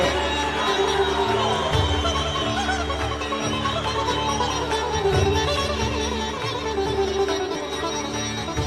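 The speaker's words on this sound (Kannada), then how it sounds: "ಚಪ್ಪಾಳೆಯೊಂದಿಗೆ" Sustained crowd applause and cheering fill a chief minister's swearing-in ceremony as the governor congratulates him, a loud, dense wash of clapping and voices throughout.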